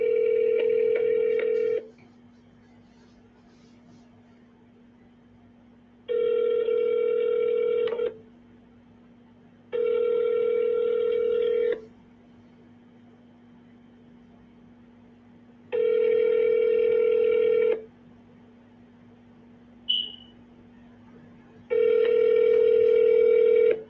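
A cell phone call rings out as a ringback tone, five evenly spaced buzzing rings about four seconds apart, clear and fairly loud with silence between them and no talk.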